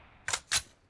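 Two quick mechanical clicks, a reload of a weapon in a shooter video game, sound in fast succession, crisp and close with nothing else around them.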